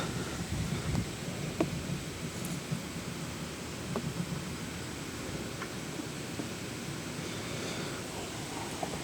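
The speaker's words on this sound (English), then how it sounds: "Oh, the wind's blowing." Gusty wind blows outdoors during an oil change on a 2011 Ford Escape XLT, a continuous low rumbling roar buffeting the microphone with a few faint clinks over it.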